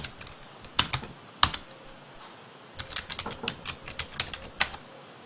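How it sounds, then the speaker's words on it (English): Someone enters a password on a computer keyboard while logging into a remote web server as root. Close, irregular bursts of crisp keystrokes are heard alone, with short pauses between clusters of presses. "I'll put in my password."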